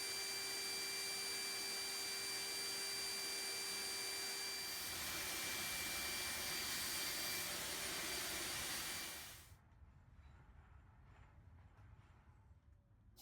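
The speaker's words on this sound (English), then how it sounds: "Just going to do that with my Fuji 3-stage siphon-fed gun" A Fuji 3-stage HVLP turbine spray gun, siphon-fed, roars with a steady loud broadband whoosh while spraying lacquer on a sliding door shop cabinet, then cuts off abruptly, leaving a faint room hum.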